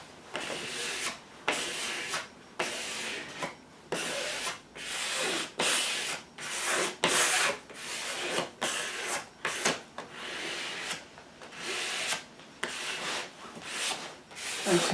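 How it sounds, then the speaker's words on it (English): A card is rubbed repeatedly over a photo transfer on textured canvas, working from the middle outward, making soft rhythmic scraping strokes, close and fairly quiet, with no talking. "take your card and from the middle out burnish it to get rid of any airlocks"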